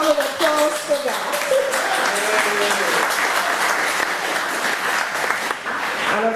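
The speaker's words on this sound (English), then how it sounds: "give her a big round of applause for that" Audience applause at an annual general meeting, a sustained round of clapping with a voice briefly heard over it at the start.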